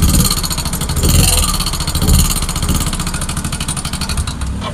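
A Yamaha Mio Soul i 125 scooter engine, run dry of oil, idles loudly and close by with a steady rapid mechanical chatter and a slight rise and fall in pitch.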